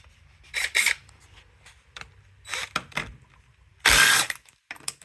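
A 17 mm socket on a ratchet wrench works a bolt on a Honda CT70 trail bike, giving several short, close bursts of rapid clicking separated by quiet pauses.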